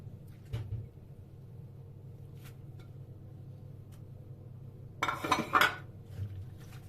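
Beef pieces being stirred into sauce in a pan, with scattered clinks of a utensil against the pan and a louder burst of scraping and clatter near the end over a steady low kitchen hum.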